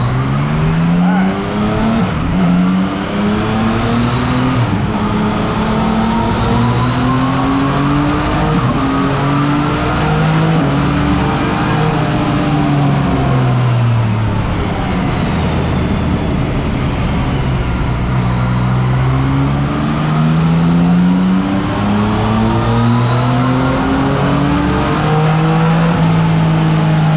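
A 2019 Yamaha MT-09 motorcycle on a road test ride after an ECU flash and dyno tune, its loud engine revving up and down in repeated rising and falling sweeps throughout, close and continuous with no talk.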